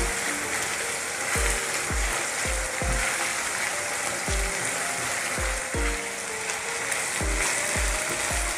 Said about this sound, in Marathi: हा टमाटर देखील ना एकदम मऊ असतं या वाटणामध्ये ना परतून घेऊ आपण।